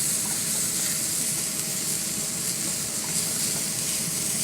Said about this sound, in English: now I'm going to add the cheese sticks in and the olives at the end. And we'll go ahead and give this a stir here